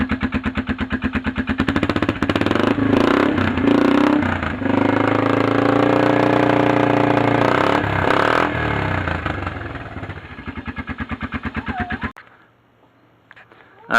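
A motorcycle fitted with a DG slip-on exhaust starts and runs loud and close for about twelve seconds, its deep steady rumble holding with a few blips before cutting off into near silence.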